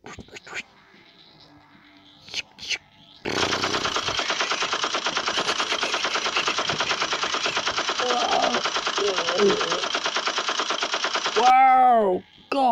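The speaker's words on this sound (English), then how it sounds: "God, they just shot Paddington" Sustained rapid machine-gun fire in a video game, loud and continuous for about eight seconds, with a voice talking over it and short game sound effects at the end.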